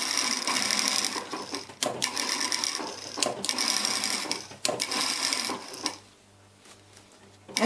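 Sewing machine stitching a neckbone neck support pillow in several quick bursts of rapid mechanical clatter separated by short pauses, close and fairly loud, with the motor going quiet near the end.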